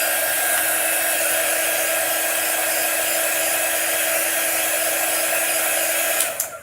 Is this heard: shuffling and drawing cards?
no